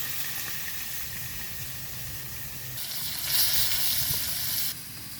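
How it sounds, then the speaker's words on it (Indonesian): Salted fish fries in a pan at a forest campsite, giving a steady close sizzle that swells louder midway and then drops back. No one speaks. "saya mau goreng ikan asinnya dulu ya."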